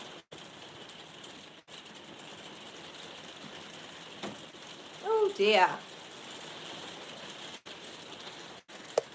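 Heavy rain drums steadily on a plastic roof over an indoor room, a constant dense hiss under the whole stretch, with a brief spoken exclamation partway through.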